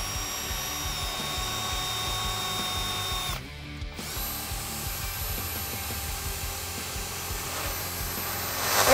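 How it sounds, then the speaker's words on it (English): A power drill boring a pilot hole with a 7/32 inch bit during a Jeep Wrangler TJ lift kit install, giving a steady, moderately loud whine nearly throughout, with a brief break near the middle and no talk. "So I'm gonna take a 7/32 inch drill bit to drill out a pilot hole."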